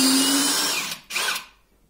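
A DeWalt DCD7771 brushless cordless drill whines loudly at full effort as it hits its torque limit, cuts out briefly, then gives a second short burst before falling quiet.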